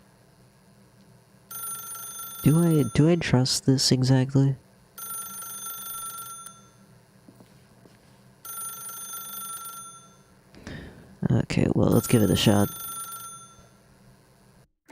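An old-fashioned telephone rings repeatedly in The Stanley Parable video game, loud bursts of bell-like ringing in an even rhythm while a person talks over parts of it.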